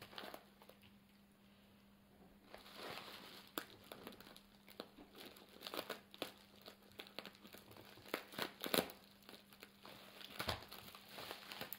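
Crinkly wrapping paper on an advent calendar gift is torn and crumpled open at close range, soft and irregular, with rustling bursts and crackles growing busier toward the end, no voices over it.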